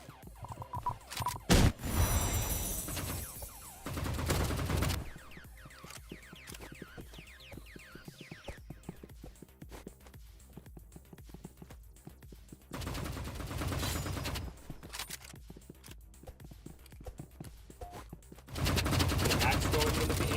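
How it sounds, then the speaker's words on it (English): Assault rifle and handgun gunfire in a Roblox shooter, heard as scattered sharp shots and rapid bursts across the round, mostly moderate in level, with louder stretches of game noise and commentary talk over it. "Max going in with the AR. And Max finishing her off with the handgun."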